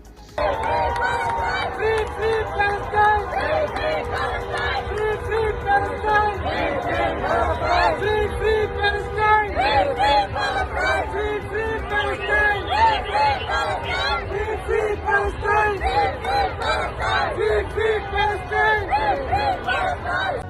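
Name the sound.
protest crowd chanting slogans for Palestine in Toronto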